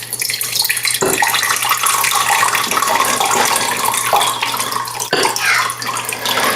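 A steady stream of 11.5 pH antioxidant water is poured out of a container, a continuous close, loud splashing and gurgling rush that keeps going without a break and with no talking.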